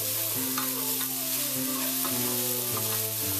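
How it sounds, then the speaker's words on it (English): Pork and onions sizzle steadily in a pan during an Italian pork stew, with stirring scrapes and soft clinks over a continuous close frying hiss and no speech. "we want them to brown a little bit and get a little on the crispy side. While we continue to stir our pork as well."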